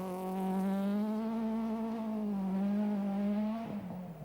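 A rally car, a Toyota or a VW Golf, revving at a distance, a single sustained engine note that holds, dips and rises again before falling away.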